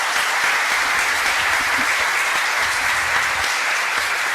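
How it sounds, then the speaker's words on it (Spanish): An audience at an international arbitration conference applauds the speakers of a panel, a dense, steady wash of many hands clapping that holds strong and even from start to finish with no talking. "Despedimos con palmas a los ponentes de esta mesa"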